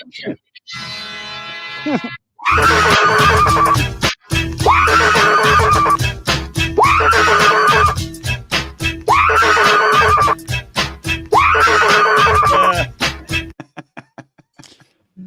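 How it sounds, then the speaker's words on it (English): A loud, repetitive remix built from chopped, looping screams of a woman screaming into a pillow, pulsing in a steady rhythm with percussive hits for over ten seconds before fading out. "That was a woman screaming into a pillow, by the way."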